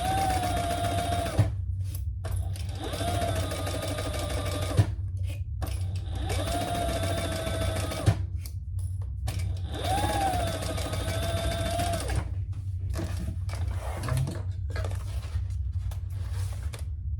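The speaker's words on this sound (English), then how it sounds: "now let's sew it together" A sewing machine stitches fabric pattern pieces of a convertible garment together, running in a steady, close mechanical whir for several seconds at a time and pausing briefly between runs.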